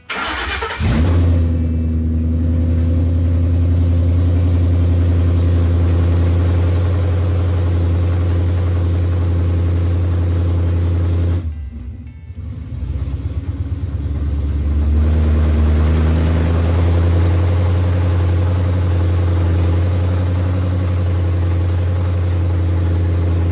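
A swapped Ford Coyote V8 running on its own fuel system fires up and settles into a loud, steady idle, dips briefly around midway, then catches and keeps idling with a deep rumble, with no talk.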